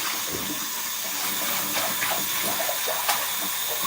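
Soaking water is poured away into a sink in a home kitchen, a continuous loud rushing splash and gurgle with no break across the few seconds.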